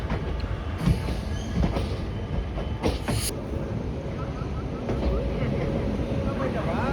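An express train pulls slowly into KSR Bengaluru station, with a low rolling rumble, a few sharp clanks and squeaks, and wind buffeting the microphone.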